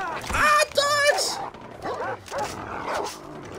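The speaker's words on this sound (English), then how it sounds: "Ah, dogs!" Dogs in the video game Far Cry 3 barking and yipping close by in quick bursts, with someone talking over them.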